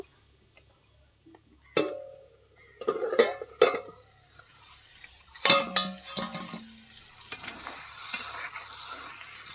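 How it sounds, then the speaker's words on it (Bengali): The lid comes off a pot of boiled eggplant, potato and pointed gourd with several sharp metallic clanks and scrapes. Each one is close, with a faint simmering hiss between them. "পাঁচ মিনিট হয়ে গেছে এবার চাপা তুলে নেব"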